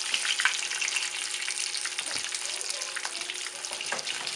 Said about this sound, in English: And we've got the oil going.